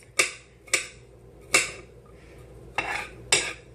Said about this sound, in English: You just use good old-fashioned plate and a knife